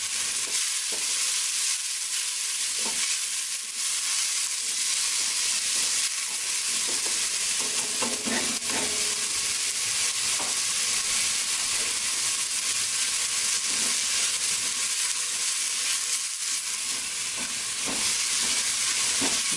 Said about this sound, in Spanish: que la cebolla comience un poquito a dorarse